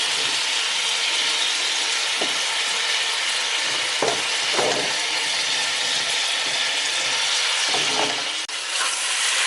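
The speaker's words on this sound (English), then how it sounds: "Give them a stir." Vegetables for a Curaçao beef stew (karni stoba) are stirred in a pot. They sizzle loudly and continuously, and a utensil scrapes and knocks against the pot a few times.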